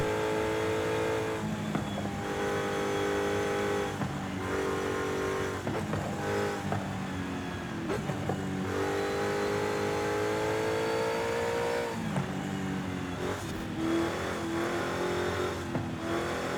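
A limousine's engine revs hard and steadily through gear changes during a touge mountain-road race in Forza Horizon 5, the loud, sustained drone rising and falling with the throttle and no voices.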